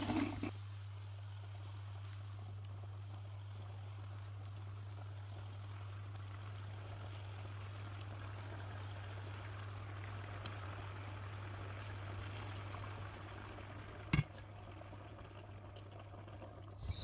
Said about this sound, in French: On prend un peu de sauce et on la rajoute sur le riz.